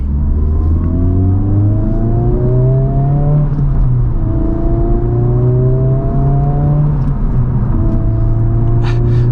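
A 2023 Honda Civic Type R (FL5) engine pulls at half throttle from inside the cabin, a loud, close drone rising in pitch through repeated climbs as the car accelerates and shifts.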